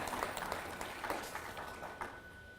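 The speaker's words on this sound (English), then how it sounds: "Let's give them a round of applause." A Memorial Day program audience gives a short round of applause, a fairly faint, diffuse patter of clapping heard at a distance for a couple of seconds.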